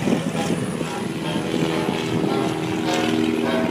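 Propeller stunt plane droning steadily through a barrel roll at the Oshkosh airshow, a continuous loud engine hum with rising and falling tone, no voices.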